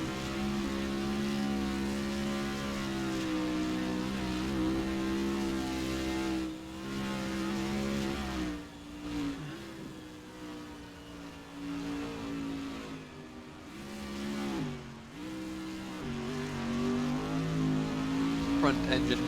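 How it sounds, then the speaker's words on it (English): Race car in a racing video game lapping the Dubai Autodrome, a sustained engine drone that rises and falls with gear changes and revving, with commentary voices over it throughout. "We'll see this boat of a car make its way around the track."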